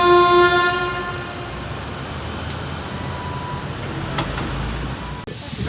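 A steam locomotive hauling a brake van at a steel works sounds a long horn blast that fades, then rumbles on steadily with clanks and rail noise.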